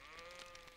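Sheep bleat in a French Thomas & Friends cartoon, a short, wavering, nasal bleat from a flock, heard alone and fairly quiet in under a second.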